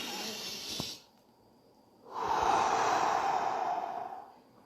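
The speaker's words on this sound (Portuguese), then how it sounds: "ativar estes corpos físicos com uma respiração profunda" During a guided Spiritist meditation, a person takes a long, slow, audible breath, first drawing in briefly and then following with a fuller, steady exhalation lasting about two seconds, close and breathy with no speech.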